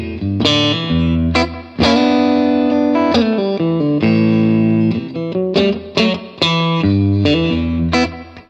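Fender Stratocaster electric guitar played through an amp with gain, volume at 7, bass low, middle and treble full, and light reverb; loud, sustained distorted chords and picked phrases ring out alone with a steady rhythm.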